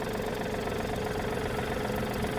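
A Yanmar F-200 mini tractor engine warms up at a steady idle, a continuous, even chugging drone with a faint rhythmic knock, heard up close with no talk.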